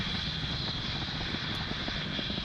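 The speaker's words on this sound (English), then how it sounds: "we throttle the Merlin 1D engines down briefly to reduce the loads on the vehicle" A SpaceX Falcon 9 rocket's Merlin 1D engines roar during ascent near max Q, a steady, dense broadband rumble with no breaks, distant and unbroken, with no speech.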